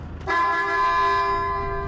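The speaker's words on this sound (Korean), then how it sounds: "자동차 그 빵빵 소리 내 들은 것 같은데 두번 크락션이요" A car horn inside a collapsed road tunnel sounds one sustained, loud blast that starts after a brief pause and holds steady to the end, with no talking.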